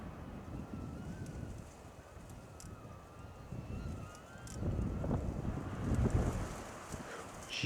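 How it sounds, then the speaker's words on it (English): Strong wind blowing outdoors, buffeting the microphone in uneven gusts that swell louder toward the end, with faint rustling underneath. "This wind is crazy."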